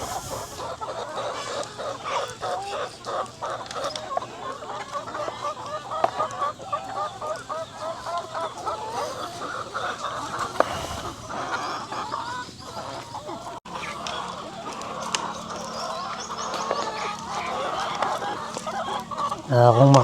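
Backyard chickens in the Philippines clucking and chattering steadily while pecking at a snack of jackfruit, a dense flock close by with a person talking over them.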